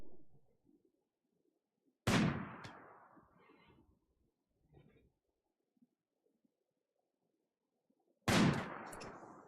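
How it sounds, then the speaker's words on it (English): Two sharp, loud gunshots about six seconds apart ring out in the Rimworld video game, each with a decaying tail, with faint scattered sounds in the quiet between them. "we're going to definitely take some pot shots with Iji"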